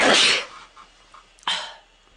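Two sneezes burst out up close, a big forceful one and then a second after a short pause, with soft breathing between them, from a person with a ragweed allergy.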